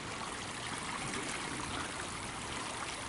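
A small creek flows beside a forest trail, a steady hissing, trickling rush of water that stays even and fairly close for a few seconds, with no one talking.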